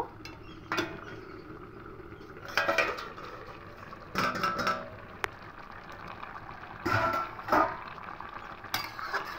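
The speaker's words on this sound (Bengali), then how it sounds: "এবার ঢাকাটা খুলে নেব।" A lid coming off a pot of raw rohu fish curry, with several metallic clatters and scrapes of cookware over a soft background bubbling.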